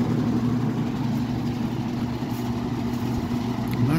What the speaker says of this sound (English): Not sure why this fan's so rattly.